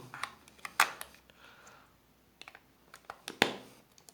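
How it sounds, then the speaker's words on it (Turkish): AA batteries clicked into the battery slot on the back of a Rain Amico tap-mounted water timer, with a few light plastic clicks and two sharper snaps, close and quiet with no talk. "Buraya kalem pil takıyoruz."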